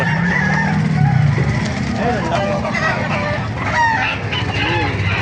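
Chickens, including Asil gamefowl, cluck and a rooster crows amid a noisy outdoor crowd at a chicken market in Baliuag, Bulacan, with people talking and traffic rumbling in the background.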